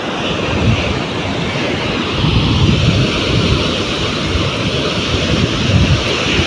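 Steady roar of ocean surf with small waves washing on shore at a boat landing, broad and continuous with gentle swells in loudness and some wind buffeting.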